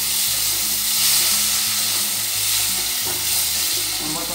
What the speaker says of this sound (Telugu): వేగిన తర్వాత టమోటా వేస్తాను